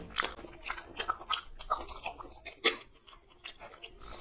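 Close, wet chewing and crunching of mutton curry with bone, eaten alongside egg biryani, in irregular bites and smacks with no talking.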